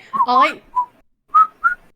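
A person whistles a few short, clear notes with pauses between them, starting with a wavering tone and ending with two brief chirps.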